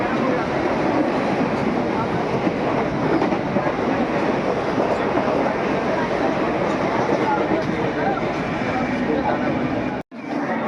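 A train runs steadily on rails with a loud, close, continuous rumble and rattle that holds for about ten seconds before cutting off abruptly; voices blend faintly into the noise.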